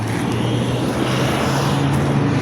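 Steady, dense roar of rush-hour car traffic passes close by a cyclist on a steel Miyata bike, a continuous loud engine and tire wash with no pauses or voices.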